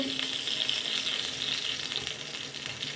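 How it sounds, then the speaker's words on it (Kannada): Garlic dropped into hot oil for a sambar tempering, a loud, steady close sizzle with crackling and stirring that carries on without a break, no talk. "ಬೆಳ್ಳುಳ್ಳಿ ಹಾಕ್ಕೊಂಡು ಒಗ್ಗರಣೆ ಕೊಟ್ಟು"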